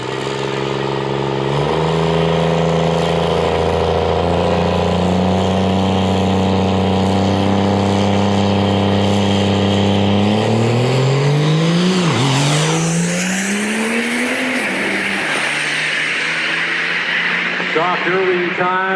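A hot rod truck roars down the drag strip at Lucas Oil Raceway with a loud, sustained engine drone whose pitch climbs as it accelerates, then sweeps away, under a commentator's voice.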